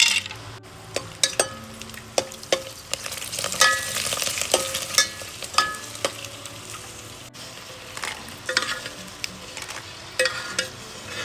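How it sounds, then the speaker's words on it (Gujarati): Bhungala snacks fry in hot oil in a Gujarati village kitchen: a constant close sizzle runs throughout, broken by frequent metallic clinks and scrapes as the pieces are stirred. "તો હાલો ફટાફટ ભૂંગળા તળાઈ જાય."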